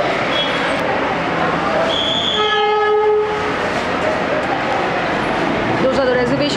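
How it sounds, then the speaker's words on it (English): A toy train horn sounds in a few stacked tones amid the rumble and bustle of busy Darjeeling station, with people talking throughout. "So we are at the toy train station, which is the Darjeeling station."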